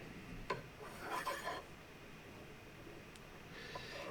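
Sandpaper rasps briefly across the ends of small wooden axle blocks for a toy, a few quiet scraping strokes with light knocks, then near silence.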